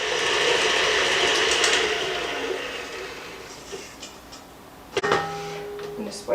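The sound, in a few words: electric mixer mixing bread batter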